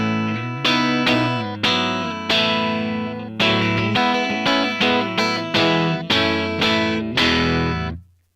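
An electric guitar through the clean channel of a Laney L5 Studio tube amp rings out in a run of strummed chords and single hits, bright and sustained with a slight chorus-like shimmer, ending on a decaying chord.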